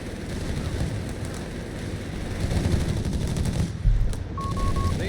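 MG42 machine gun and G43 rifle fire in Company of Heroes 3, dense rattling bursts of gunfire running continuously, loud and close, with a heavier impact near the end.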